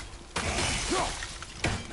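Objects shattering in God of War (2018) gameplay: two sharp breaking crashes about a second and a quarter apart, each with a bright splintering burst, over a steady game background.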